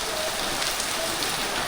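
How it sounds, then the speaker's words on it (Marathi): Steady rain falls in a dense, even hiss during a Ganesh festival gathering, continuous and fairly close without speech. "त्यात पण पाऊस आलेला आहे"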